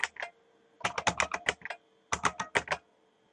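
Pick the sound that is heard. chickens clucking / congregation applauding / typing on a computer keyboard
typing on a computer keyboard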